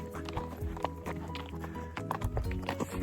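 A horse named Blue Mickey walks a rocky mountain trail at Lincoln Mountain Open Space, its hooves clopping in an uneven rhythm close by, with wind and gear rustle over a low background.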